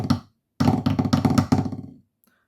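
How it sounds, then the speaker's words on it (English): Snare drum pattern played with sticks on a practice drum pad, a short tap then a continuous run of quick accented rudiment strokes lasting about a second and a half, close and dry, without any talking. "I know it doesn't sound great on the drum pad"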